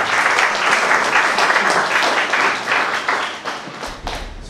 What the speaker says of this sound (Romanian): Și o aplaudăm cu noi.